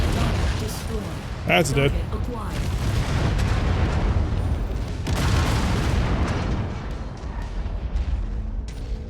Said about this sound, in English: Missiles away. More missiles, please.